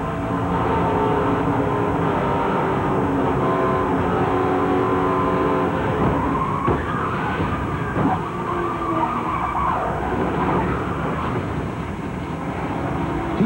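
NASCAR race cars roaring and crashing at Talladega 1999, loud continuous engine drone at speed with scraping and impact noises blending into the roar.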